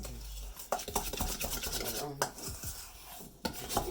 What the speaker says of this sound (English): Mixing the butter.